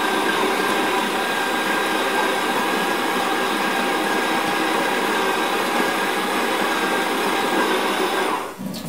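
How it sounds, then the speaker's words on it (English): An electric coffee grinder grinds beans for AeroPress, giving a loud, steady high whir for about eight seconds before it cuts off and winds down. "let's set this for just over 10 seconds and get about 1 cup's worth of grind"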